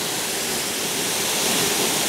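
A waterfall on Madeira pours into a pool, giving a loud, steady broadband rush of falling water that fills the whole stretch without pause.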